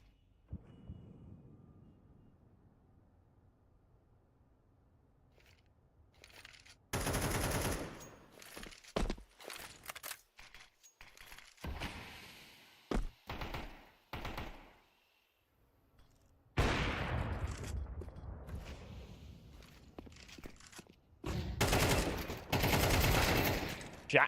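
A professional Counter-Strike match erupts into sharp bursts of rifle gunfire and headshot impacts after a quiet stretch. The firing comes in clustered volleys, loud and close, with brief pauses between exchanges.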